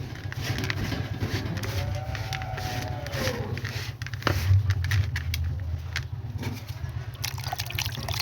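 Water trickles and pours in small amounts onto homemade chicken feed to moisten it, a steady liquid sound running close by over a low background hum with no talking.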